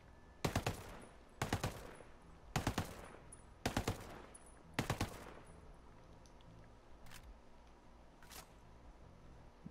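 MK17 assault rifle in Ghost Recon Breakpoint firing five sharp, loud bursts at roughly one-second intervals, followed by two fainter isolated shots after a short pause.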